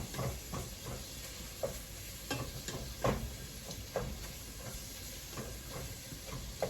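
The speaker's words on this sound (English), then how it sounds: "so the beef is in there, it's browning" Ground beef browning in a pot over medium-high heat for cheeseburger soup gives a steady, faint sizzle, with occasional scraping and stirring knocks.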